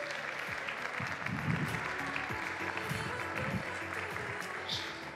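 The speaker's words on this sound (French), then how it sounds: "que vous applaudissiez très fort Gilles Gagné" An audience at a retail business keynote applauds as a speaker comes on stage, a sustained wash of clapping from many hands that continues steadily before tapering slightly near the end.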